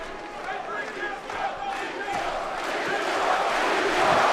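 An arena crowd at a Klitschko versus Thompson heavyweight boxing bout roars and cheers, the noise swelling steadily louder, with a commentator talking over it.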